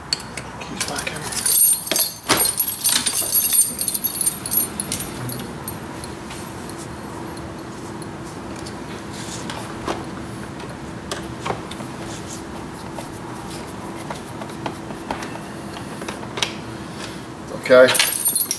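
Car keys for a Toyota Aygo jangle and clink during an indicator stalk replacement, in a busy burst early on and again briefly near the end, with quieter handling noises and a steady hum between.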